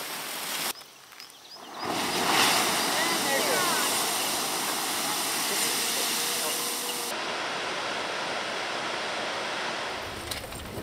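Water rushing and gurgling in Iceland roars as a loud, steady broadband wash, with a brief quieter stretch near the start before the full roar sets in.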